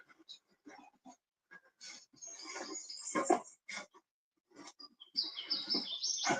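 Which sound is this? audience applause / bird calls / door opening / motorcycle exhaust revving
bird calls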